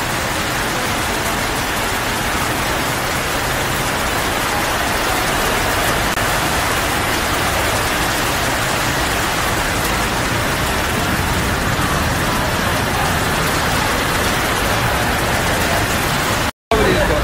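Heavy rain pours down steadily in Bangkok, a dense, continuous hiss filling the whole stretch at close range, with no voices and only a brief dropout near the end.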